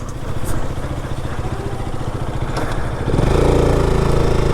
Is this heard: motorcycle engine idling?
yes